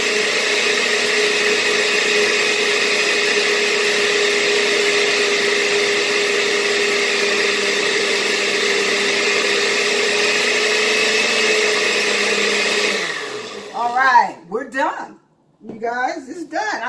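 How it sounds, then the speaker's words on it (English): A kitchen blender whirs loudly and steadily, blending a thick mixture with oil for a cauliflower salad, for about thirteen seconds before it stops and someone starts talking. "the noise of the blender that lets you know that hey, it's ready because it is thick"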